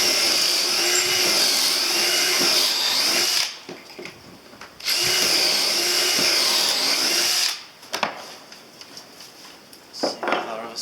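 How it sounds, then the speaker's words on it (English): A power drill whines at high speed while boring pocket holes in wood for a camper van bench seat, two long loud bursts separated by pauses with small knocks and handling noises. "Now high speed on the drill, ready to create pocket holes."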